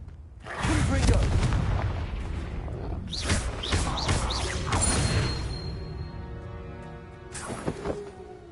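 Confringo explosion spell cast in Hogwarts Legacy, several booming blasts and crashes under a voice, with a final burst after a lull.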